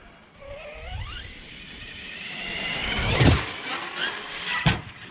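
A DBXLE RC truck with a new power system slams down from a jump, a loud thumping impact that follows rising motor whine, with a few more clattering hits afterward.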